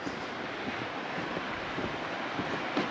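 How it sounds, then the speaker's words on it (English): A small waterfall beside a mountain trout creek rushes in a steady, broadband wash of flowing water, constant and moderately loud with some wind buffeting on the microphone and no talking. "Oh, there's a little waterfalls."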